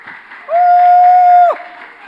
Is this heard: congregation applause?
yes